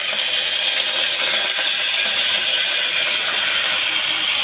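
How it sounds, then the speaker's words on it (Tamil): Green chillies, onions, tomatoes and garlic cloves dropped into hot oil, sizzling in a loud, steady hiss that runs unbroken throughout. "4 நம்பர் பச்சை மிளகா, ஒரு 4 வெங்காயம், ஒரு 4 தக்காளி, ஒரு 10 பல் பூண்டு, இது எல்லாத்தையும் இப்போ நம்ம இந்த எண்ணெயில் போட்டுக்கலாம்"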